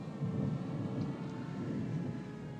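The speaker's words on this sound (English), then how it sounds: "There's a storm coming up." Low, continuous rumble of thunder from an approaching storm, steady and fairly loud throughout with a faint wash of rain noise above it and no voices.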